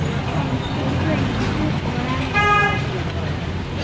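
Congested traffic in Dharamshala's main market, a low steady rumble of stalled vehicles with a single short horn toot partway through, nearby and moderately loud amid faint background voices.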